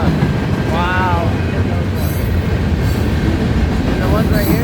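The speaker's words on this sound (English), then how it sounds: "Another train." A westbound train rolls past close by, a loud continuous rumble of railcars with clattering wheels and squealing flange tones rising and falling, while people talk excitedly nearby.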